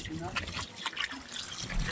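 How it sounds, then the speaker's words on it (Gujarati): Water is poured to wash feet outdoors, a faint splashing trickle that runs under quiet talk. "પગ ધોઈ નાખી હારા પાણી"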